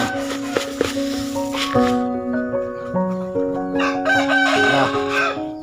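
A rooster crows loudly nearby, several long drawn-out calls overlapping one another, with scattered clucks and faint background noise.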